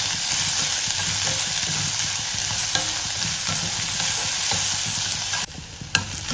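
Curry leaves and onion sauté in a pan over low heat, giving a steady close sizzle with repeated stirring scrapes and a couple of sharper clinks near the end.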